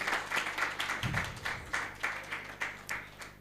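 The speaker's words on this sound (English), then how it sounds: "let's welcome Clara with a round of applause." A small audience at a hospitality and tourism panel claps to welcome a panelist, faint rhythmic applause from a few people in steady beats.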